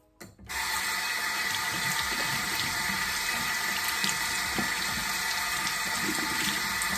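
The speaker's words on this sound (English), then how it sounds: "I wash my hands because I'm going to be touching my face" Running tap water pours steadily into a sink while hands are washed under it, a close, continuous hiss and splash that starts after a brief quiet moment and holds constant to the end.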